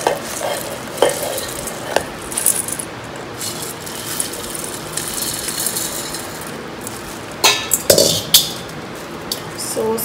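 Masala puffed rice mixture being stirred by hand in a home kitchen for spicy kara pori, a steady dry rustling with sharper clinks near the start and again near the end, close and alone.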